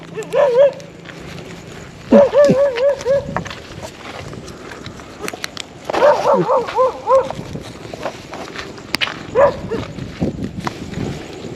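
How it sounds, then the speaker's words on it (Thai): Several dogs bark at night near a Thai Buddhist temple in Bang Pakong, Chachoengsao, in repeated loud bursts that come close together. Quieter stretches sit between the bursts, with background noise and a few knocks. "หมาเยอะมาก สุนัขเยอะมาก"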